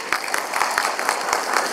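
Steady applause from an audience, dense clapping filling the whole moment with no voices on top.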